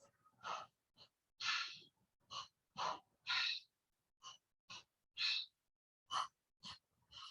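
Slow, close breaths during a relaxation exercise come and go in a series of soft, airy puffs and exhales, each separated by silence, heard alone.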